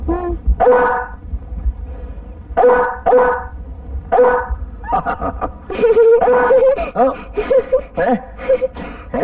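A person imitates a dog with short, voiced bark-like bursts in quick groups, followed by a longer stretch of rapid, uneven vocal sounds.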